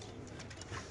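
Red checker pigeons coo softly and faintly at a pigeon market, a brief low murmur of cooing with no voices.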